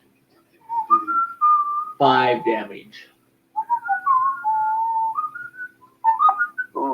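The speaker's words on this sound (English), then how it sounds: "Ooh, that whistling is loud." Someone whistles a wavering melody in short phrases, loud and close, interrupted by a brief spoken remark, during a tabletop Pathfinder game.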